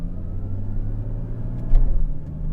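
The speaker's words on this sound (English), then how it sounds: "I'm staying on the power the whole time. We can see just how quick it shifts." A Porsche 981 Cayman with a PDK gearbox accelerates under steady power, a low rumbling engine drone heard from the cabin, with a brief surge and a quick gear-change blip near the end.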